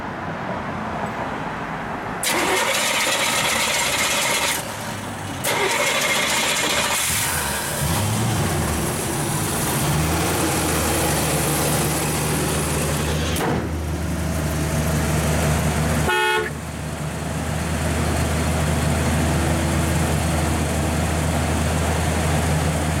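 A 1966 Buick Skylark convertible's engine cranks, catches and settles into a steady, smooth idle, a continuous low rumble close by with brief dropouts and a clicking burst partway through, with no talking.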